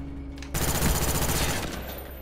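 Rapid automatic gunfire from the Xbox 360 video game Black Ops 1, starting abruptly after a brief quiet moment and continuing as a loud, close, sustained burst.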